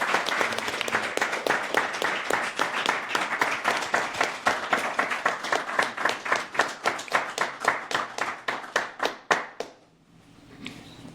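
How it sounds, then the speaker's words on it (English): Sustained audience applause with dense hand clapping at a men's panel event, loud and steady for about ten seconds before it abruptly cuts to quiet room noise. "I just gotta get this man another round of applause"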